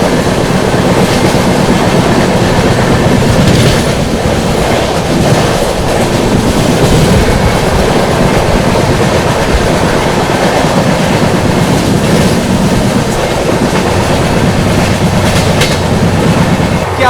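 The 12141 Patliputra SF Express runs at high speed, heard from on board as a loud, continuous roar with rhythmic clickety-clack of wheels over rail joints and no talking.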